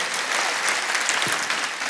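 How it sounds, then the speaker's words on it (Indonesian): A church congregation claps loudly during a sermon, a dense, even roar of many hands that holds steady, with no speech over it. "Berikan tepuk tangan yang meriah buat Tuhan"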